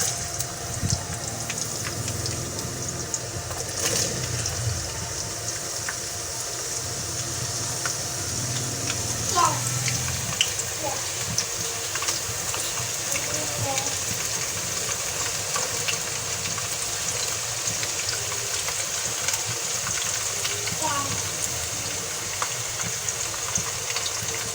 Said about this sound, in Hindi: अब तेल गरम हो गया, अब हम इसमें डालेंगे प्याज।